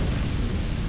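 A low, heavy explosion rumble from the vehicle combat game Hard Truck Apocalypse, a dense booming burst that fills the short moment at steady loudness with no talk.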